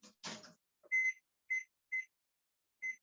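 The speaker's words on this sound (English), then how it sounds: "set the timer for 12 minutes" A kitchen oven timer chirps five short, clear electronic beeps in an irregular rhythm while it is being set for lava cakes, preceded by a brief rustle and clatter.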